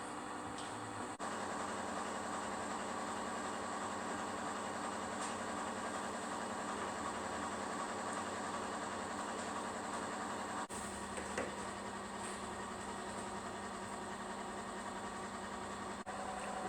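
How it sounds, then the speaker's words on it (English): A metal lathe turns a lump of bronze into a bush for a BSA Bantam motorcycle, giving a steady, continuous machine whir and hum that stays even from start to finish with no talk. "we'll get a lump of bronze, jump on the lathe, and we'll get one of these spun up"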